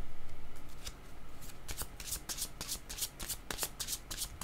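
Tarot-style cards being shuffled by hand, a close, dense flurry of riffling flicks that starts as a soft rapid whir and turns into sharper, uneven bursts, with no talk.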